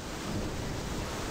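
Rain and thunder in a video game form a dense, steady wash of rain noise with a low rumble underneath, heard alone for a brief moment.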